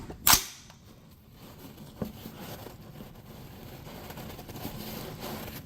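One sharp, loud report from a Cru Arms TEMP556 piston-driven .22 rifle firing Hornady ammunition rings out at the start, then fades into quiet outdoor ambience with a faint second click.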